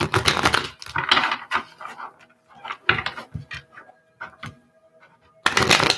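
Tarot cards being shuffled in bursts of papery riffling and flicking, with brief pauses between rounds; close and fairly loud, no talking.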